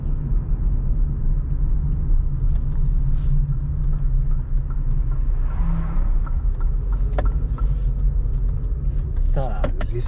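A car drives through city streets toward Yunusabad in Tashkent, with a loud steady low engine and road rumble from inside the cabin and a few small clicks and rattles near the end.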